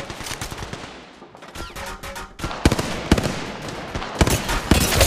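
Automatic gunfire in the battle royale shooter Apex Legends Mobile, quiet at first and then sharp, close bursts of rapid shots that crackle in clusters toward the end.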